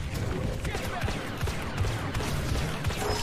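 Rapid blaster fire from a Star Wars Battlefront II match, a dense stream of sharp repeated shots with footsteps and battle noise underneath, steady and fairly loud throughout.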